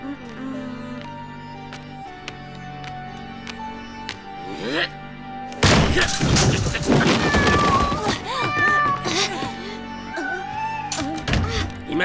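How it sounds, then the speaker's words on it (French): A cat yowls and meows in rising, wavering cries, followed by a loud burst of thumping, clattering commotion with more strained yowls mixed through it. "Ce n'est jamais juste un chat."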